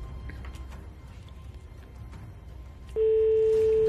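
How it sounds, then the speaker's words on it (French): A steady electronic telephone ringing tone starts abruptly partway through and holds, loud and continuous, after a stretch of quiet room noise. "Première sonnerie."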